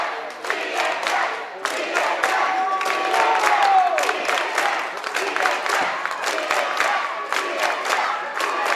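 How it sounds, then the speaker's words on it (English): A packed gym crowd at a boys' high school basketball game roars and cheers without letup, with shouts, whistles and scattered claps ringing through a big echoing hall. "The crowd is going wild."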